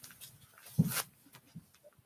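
A small scruffy dog gives a short whimper followed by a few faint whines, heard close and alone in a quiet room.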